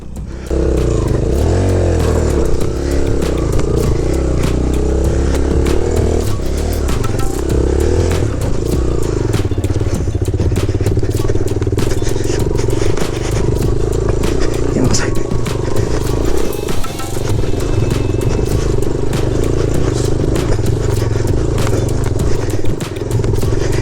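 A motorcycle engine labouring and revving hard on a steep, rough off-road trail in the Margalla hills, loud and continuous with clattering and a voice talking over it.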